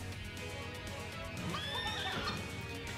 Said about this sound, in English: the legendary hidden tech of the laser horse attack